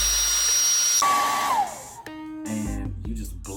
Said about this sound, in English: Basically, you just turn on your blow dryer.